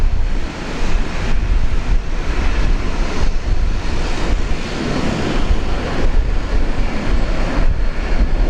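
A Singapore Airlines heavy airliner on approach to runway 01 right at Brisbane makes a steady, broad engine roar with a wind-like rush, holding constant throughout.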